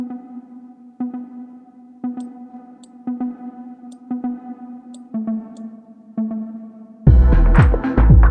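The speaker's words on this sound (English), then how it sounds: "Ooh, I want to add a slapback delay as well." A synth pluck with a slapback delay in a moody house beat, a short repeating phrase sounding about once per second with a quick echo behind each note, then a dense, louder full-beat section bursts in for the final second.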